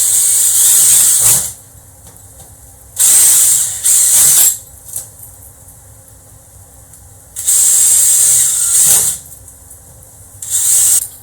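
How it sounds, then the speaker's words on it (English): Drilling holes in Lexan comes in four short, loud bursts of high-pitched whirring with quiet pauses between them. The sound is close by and no one speaks. "And now find your holes and complete the drilling process."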